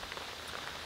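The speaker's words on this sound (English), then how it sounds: "It's not raining fast, but it seems to be raining heavy, which is kind of different." Heavy raindrops fall steadily outside during truck camping, a dense, even patter of rain on surfaces that stays constant and moderately faint throughout, with no voices.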